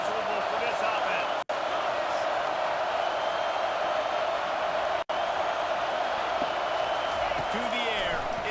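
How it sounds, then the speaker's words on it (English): A roaring stadium crowd in a college football video game forms a loud, continuous rumble with scattered whoops and thumps, broken by two brief dropouts. "This crowd trying to make life miserable for this offense"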